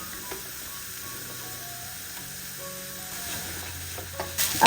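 Samosa potato filling is stirred in a hot pan, a low, quiet sizzle with faint spoon scrapes that grow louder near the end.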